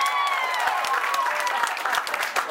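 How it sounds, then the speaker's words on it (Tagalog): An audience claps in a room, dense applause that carries on steadily for a couple of seconds. "Para kay Josh yung palakpak no para sa akin naman."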